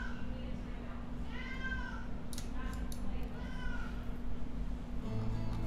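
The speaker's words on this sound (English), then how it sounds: "my cat's going crazy in the next room" A cat meows repeatedly from the next room, several drawn-out calls at a distance under a steady background hum.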